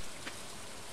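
Video-game rain in Stardew Valley hisses as a steady, dense wash of falling drops, even and unbroken with no voices.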